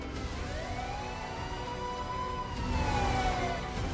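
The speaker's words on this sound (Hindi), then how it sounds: "गली में पुलिस की जिप्सी सायरन बजाते हुए दौड़ रही है।" Police Gypsy jeep siren racing down a street: a wailing tone that rises and falls in long sweeps, loud and fairly close, over a steady background of traffic and street noise.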